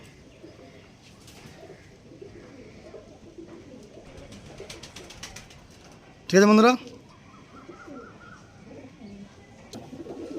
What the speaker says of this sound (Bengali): দেখে নিন পায়রা দেখুন সুপার কোয়ালিটির পায়রা এটা মাদা এটা নর